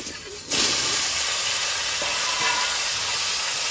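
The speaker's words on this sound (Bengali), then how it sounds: "আলুগুলোকে নেড়ে চেড়ে ভালো করে ভেজে নেব।" Loud hissing sizzle of potatoes dropping into hot oil after whole cumin and chillies, bursting on suddenly and then holding as a steady crackling fry.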